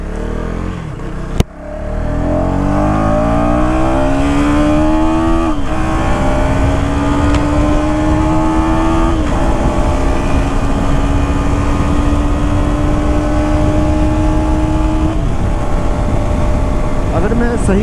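A KTM Duke 250 motorcycle in track mode pulls away after a sharp click, its engine note climbing steadily through the gears with brief dips at each shift, loud and continuous with wind and road noise underneath.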